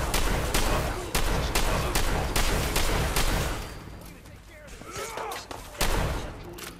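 A firing squad opens fire in the video game Fallout 4, with a rapid run of loud gunshots that tapers into scattered shots and game noise, then ends with a final burst.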